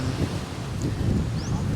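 Big ocean waves splash against rocks and a small boat off Carnaza Island, with wind rushing across the microphone in a steady, moderately loud roar.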